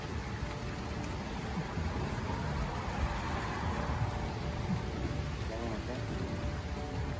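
Steady rain falls outdoors during repair work on a 2003 Jeep Liberty, a constant even hiss of drops on surfaces at moderate distance, with no other distinct sounds.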